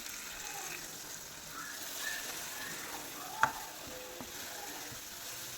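Tamarind water poured into a masala for a fish curry over a full flame gives a soft, steady sizzle, with one faint clink and a few light stirring sounds.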